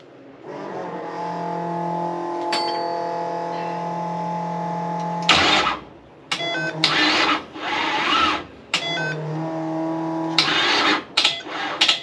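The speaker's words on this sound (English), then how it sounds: "Fuel pump, engage." An electric fuel pump on a 1966 Chevy Nova runs with a steady, close mechanical whine for about five seconds, then gives way to louder, uneven bursts of noise with brief gaps between them.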